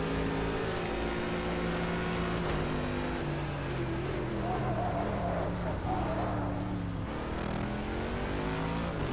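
A Porsche racing car engine in a racing video game roars steadily at high revs throughout, with pitch shifts as it accelerates and changes gear, close and loud with no talk.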